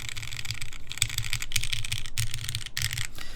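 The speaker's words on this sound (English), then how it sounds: "if you wanted to listen to a typing sound, we can do that now" Steady, fast typing on a custom mechanical keyboard fitted with Gateron Tangerine switches, with close, crisp keystroke clicks in quick bursts and short pauses between them and no talking.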